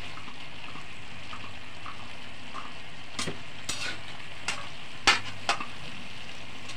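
Sautéed cabbage with sardines stirred in a pan: a low steady sizzle runs throughout, with a few sharp scrapes and clinks of the utensil against the pan near the end, and no talk.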